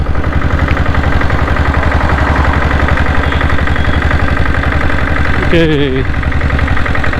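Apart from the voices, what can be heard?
diesel Bullet 7.5HP motorcycle engine idling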